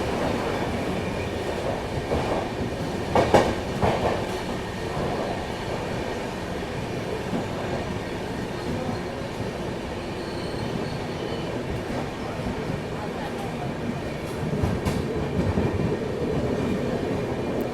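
The Mumbai-Hapa Duronto express runs at speed, heard from onboard as a constant rumble and rattle of the carriage with occasional wheel squeals and clacks, steady throughout with no talking.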